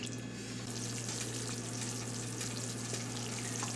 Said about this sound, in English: It's reached a rolling boil, which we want.